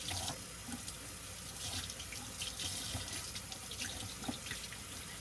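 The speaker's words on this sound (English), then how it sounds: "So we're rinsing just until the water is clear." A kitchen tap runs in a steady, even stream while a fascinator dyed green in a color bath is rinsed until the water runs clear. The flow is continuous and fairly soft, with no voices.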